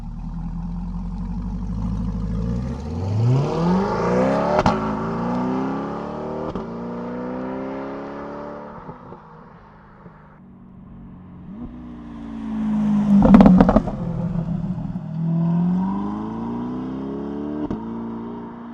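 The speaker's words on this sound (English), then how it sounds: "Now I'm just gonna do a couple drive-bys with different cars." A car engine roars in with rising pitch, passes close, then fades; a second revving pass follows, louder, before trailing off. The car is a C8 Corvette Stingray.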